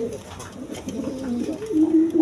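A pair of young gorra pigeons cooing up close, a soft continuous warbling coo rising toward the end.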